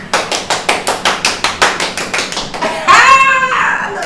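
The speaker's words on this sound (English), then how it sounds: "And the crowd goes wild." A short round of sharp claps comes first in an even rhythm, close and loud. A brief rising whoop follows, then a looser mix of cheering.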